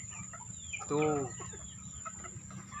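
A sick chicken with a snoring respiratory illness gives one short, raspy, throaty call near the middle, close by, over a low steady background hum and faint scattered noises.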